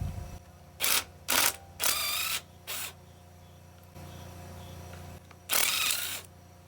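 Ratchet backing out 7mm bolts from the coils of a two-cylinder motor being torn down for scrap, a few short bursts of quick clicking separated by pauses, close and fairly quiet.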